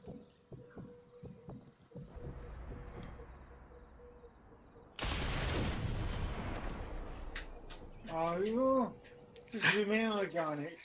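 An explosion in the sniper game Sniper Elite 4 erupts as a sudden loud broadband blast after quieter low rumbling, then rolls on for a few seconds before fading under the game's other sounds, with a voice talking afterward.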